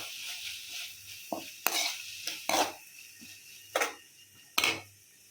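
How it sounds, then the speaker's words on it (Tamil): Green chillies, coriander and curry leaves are sautéed in a pan, a soft sizzle underneath while a spoon scrapes and clinks against the metal in several sharp strokes, close and moderately quiet. "சேர்த்துட்டு கொஞ்சம் வதக்கிக்கோங்க."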